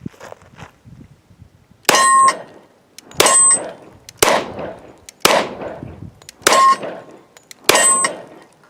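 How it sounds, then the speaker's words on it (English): Six shots from a Sig P220 Elite 10mm pistol firing 180-grain full metal jacket rounds ring off a steel target 15 yards out, each crack followed by a bright metallic clang, spaced about a second apart. "Luke's going to be shooting 6 rounds of the cellular and bellet 180 grain full metal jacket from 15 yards on the steel"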